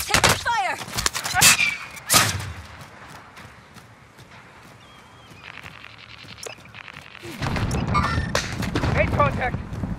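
Gunfire and explosions in Plunder mode of a military shooter, with sharp shots and a loud boom early on. A low rumbling barrage follows, with hoofbeat-like clatter and radio chatter in the mix.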